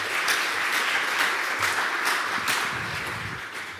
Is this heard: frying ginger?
no